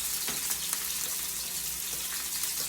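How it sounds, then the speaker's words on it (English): Chicken and bacon brown in a pan, giving a steady, faint sizzle with soft crackles and pops throughout, and no talking. "This chicken is browning. The bacon's browning nicely."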